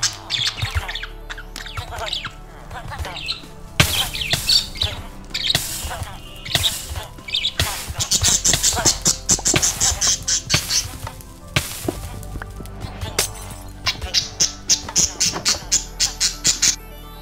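Parakeet squawks and chirps in a village-raiding video game, sharp bird calls repeating in bursts over busy game music and effects, with a person talking throughout.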